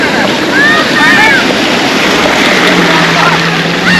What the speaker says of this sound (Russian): Легкая-легкая волна.